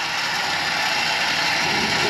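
A winch ratchet clicks steadily as it slacks off the line, lowering a heater hung from the rafters; a dense, continuous mechanical ratcheting with no voices over it.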